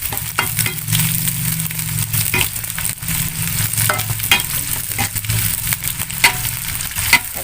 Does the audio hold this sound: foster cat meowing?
no